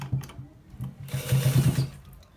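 A sewing machine stitches a straight seam on a folded shirt panel, its needle motor humming in a close, steady burst that swells and runs for a second or two, with no talking.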